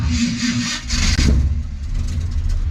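Chevy square body crew cab dually, a cold start in 16-degree weather with manual choke: a steady, rough low engine rumble close by, with a heavier surge around the one-second mark before it settles into idle.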